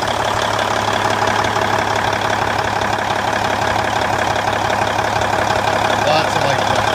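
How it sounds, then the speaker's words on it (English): A 2003 Kenworth T800H dump truck's diesel engine idles steadily and close by, a continuous low rumble with a faint knocking texture that holds even through the whole stretch. "Motor is sounding really nice."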